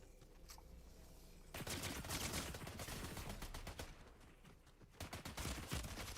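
Rapid bursts of video game gunfire, a dense crackling fusillade that kicks in after a quieter opening and keeps rattling on with brief pauses, loud and unbroken by talk.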